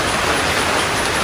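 Rain pours down steadily during a rest break on a rural work site, a loud, even hiss of falling water for a brief moment.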